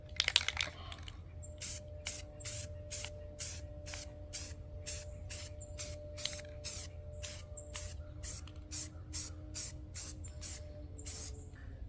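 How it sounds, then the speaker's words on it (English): Spray paint can applying a base coat to a rifle, heard as a rapid series of short, crisp hissing bursts in steady rhythm, close and fairly quiet. "So let's spray the base coat."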